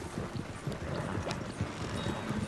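Horse hooves clip-clop in a rapid, uneven rhythm in the Red Dead-based WildRP game, fairly close with a light windy hiss underneath.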